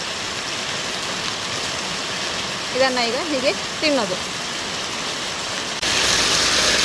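Steady monsoon rain hisses throughout, with a voice talking briefly in the middle and the downpour growing slightly louder near the end.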